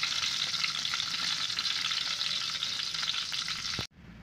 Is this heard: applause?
no